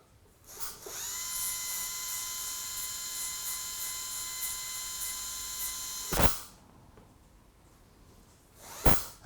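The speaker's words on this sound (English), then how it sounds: "So prepare for some noise using a medium to coarse disc" High, steady whine of a dental handpiece spinning a medium to coarse disc while flattening veneer contact points on a tooth, running continuously for about five seconds over a faint hum, followed by brief short bursts.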